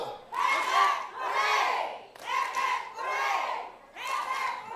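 A crowd of game show studio participants chants in rhythmic group shouts, several loud surging cheers separated by brief pauses, with voices rising together in each burst.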